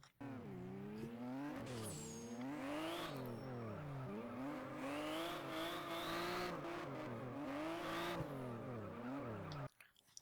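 A drift car in the rFactor racing game spins out under too much throttle: a loud, continuous engine roar with rising and falling revs and squealing tires, running steadily for about nine seconds before cutting off abruptly.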